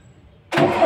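A Mitsubishi 6M70 diesel engine with a hard-start problem and weak battery fires up abruptly after a quiet moment, bursting into a loud, close, rough roar that holds steady.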